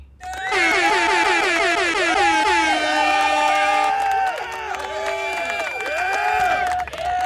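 Loud air horn blasts repeating in quick bursts over a cheering crowd, sustained for several seconds before giving way to music.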